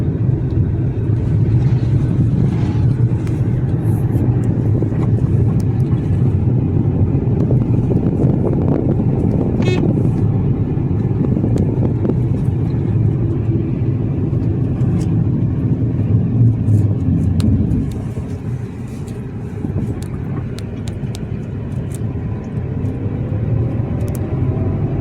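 Renault Kwid driving along a rough, poorly surfaced road, a steady loud low engine and road rumble with some wind buffeting throughout, dropping to a softer drone near the end.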